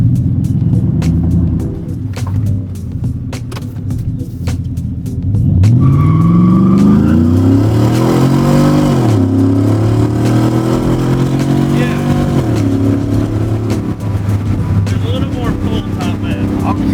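A Ford Coyote engine with upgraded airflow drones steadily close by inside a car on a test drive, then revs up and down in rising and falling sweeps, loud throughout.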